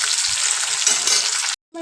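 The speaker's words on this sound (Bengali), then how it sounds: "দিয়ে খুব ভালো করে ভেজে নেব।" Chopped tomato, slit green chillies and onion sizzle and fry steadily in hot oil in a pan for banana flower curry, a loud continuous crackle that cuts off briefly near the end.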